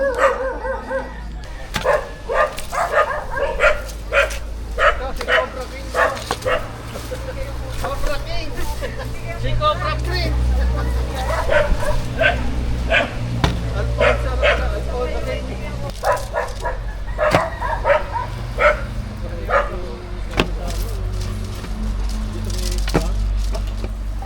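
A dog barks repeatedly in short bursts outdoors among bamboo, the barks scattered over a low engine-like hum, with people talking throughout.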